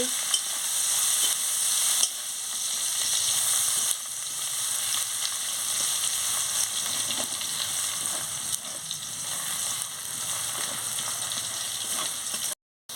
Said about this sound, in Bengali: রসুনের বা ছেঁচো দিয়ে দিচ্ছি মশলাটাকে আমি ভালো করে ভেজে নিচ্ছি